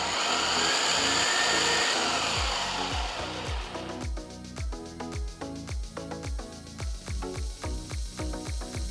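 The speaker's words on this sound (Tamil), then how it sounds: "சட்னி அரைச்சாச்சு" Ginger chutney being ground in a kitchen mixer grinder. A loud, steady motor whir gives way to rhythmic pulsing bursts as the grinder is switched on and off repeatedly.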